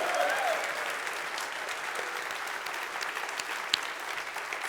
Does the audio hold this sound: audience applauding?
yes